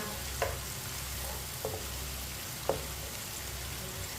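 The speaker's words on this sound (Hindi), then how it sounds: "इसी तरह चम्मच चलाते हुए पकाना, जलने नहीं देना।" Potato and eggplant frying in a pan, a steady soft sizzle with a spoon knocking against the pan three times at spaced intervals, close but quiet.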